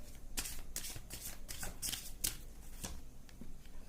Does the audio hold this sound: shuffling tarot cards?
yes